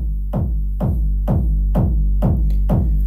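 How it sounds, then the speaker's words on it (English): A powerful techno kick drum made in the Volker kick plugin thumps in a steady four-on-the-floor pattern, six deep booming hits with punchy attacks over a sustained low rumble, loud and alone. "it's a very, very powerful techno kick drum"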